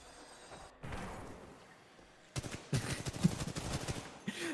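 Titanfall 2 campaign gunfire rattles in rapid bursts, a sharp clattering volley after a quieter stretch, the shots fairly close and punchy with brief gaps between them.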